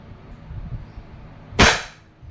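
A Wingun 708 airsoft revolver fires a single steel BB in single action: one sharp, close snap against a quiet background, with no speech.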